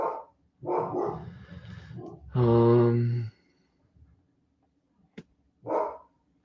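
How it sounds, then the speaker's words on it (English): A dog indoors gives a short, drawn-out bark-howl between a few faint, scattered sounds that may include brief speech. "My dog's going crazy."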